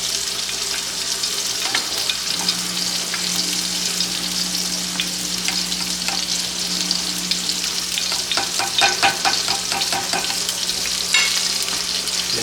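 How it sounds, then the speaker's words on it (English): Home fries sizzle steadily in a hot pan while a utensil stirs them, with scraping and clicking strokes growing busier toward the end over a constant frying hiss. "stir up these fries a little bit, these home fries."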